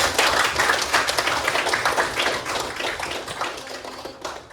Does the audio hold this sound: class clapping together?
yes